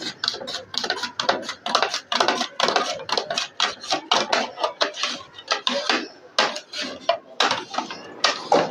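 Potatoes are sliced thin on a hand slicer, making a rapid, uneven run of sharp, close scraping strokes that repeat many times with no talk.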